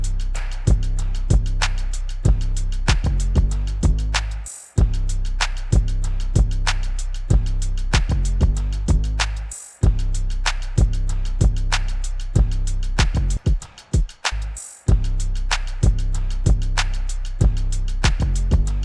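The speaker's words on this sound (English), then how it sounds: "The drums and the 808 together sound like this." Hip hop beat of punchy drums locked with a deep 808 bass, a steady loud groove of regular hits with a few brief dropouts and stops along the way.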